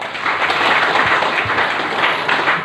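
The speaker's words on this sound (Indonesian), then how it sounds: "kita berikan tepuk tangan dulu buat senior kita" Loud, dense applause from a crowd at a Golkar party gathering for a senior party figure, a continuous near roar of many clapping hands lasting under three seconds, no talk.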